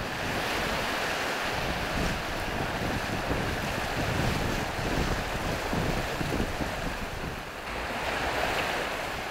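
Heavy surf batters the rocky shore of a tiny island at Jeju's southern end. The churning waves surge continuously and loudly for several seconds, with wind buffeting the microphone and no voices.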